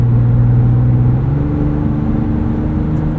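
A 2024 Ford Ranger Raptor cruises on the highway, its engine a loud, steady drone from inside the cabin, the pitch stepping down once as it shifts into a higher gear.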